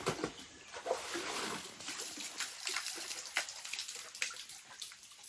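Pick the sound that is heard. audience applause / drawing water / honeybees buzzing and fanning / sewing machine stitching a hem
drawing water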